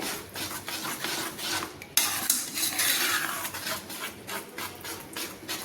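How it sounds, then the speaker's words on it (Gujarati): A spoon stirs mohanthal, a Gujarati sweet of gram flour mixed with sugar syrup, in a pan off the heat, making steady scraping and clinking sounds that continue throughout with a louder burst partway through. "આવી રીતે હલાવીશું એટલે મિશ્રણ ઘટ્ટ થતું જશે"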